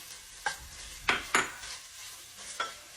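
Green chilies hit a hot pan of red onions for a Tamil mutton curry. A soft sizzle runs under a few sharp spatula scrapes and clacks.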